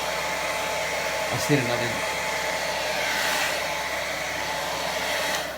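Hair dryer blowing on a beard during grooming, a loud steady whirring hiss close to the mic that runs throughout, with someone speaking briefly over it.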